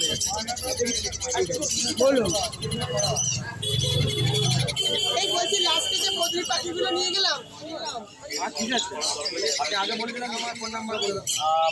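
At a Sunday fair in Serampore, many cage birds sold at the market chirp and call continuously, with some pigeon-like cooing, beneath constant crowd chatter and people talking nearby.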